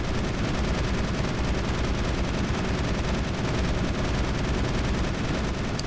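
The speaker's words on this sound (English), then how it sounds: "let's go ahead and keep firing at the Thresher Maw" Gunfire aimed at a Thresher Maw in Mass Effect, a dense, continuous roar of rapid shots and rumbling impacts that stays loud and even throughout with no talk.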